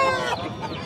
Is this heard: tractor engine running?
no